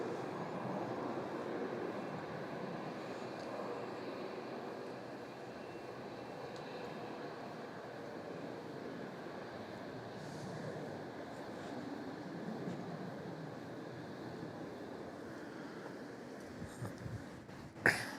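An airliner, flight Velocity 855 bound for Sydney, takes off from Melbourne Airport with a steady, broad jet roar that holds at moderate distance throughout, fading slightly near the end.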